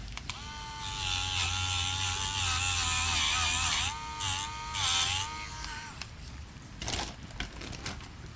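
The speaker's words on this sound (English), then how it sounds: "I'm just going to take my Dremel and just" A Dremel rotary tool buffs tarnished wire on a wire-wrap suncatcher, giving a steady high whine for several seconds that dips and surges as it bears on the metal, then cuts off near the end.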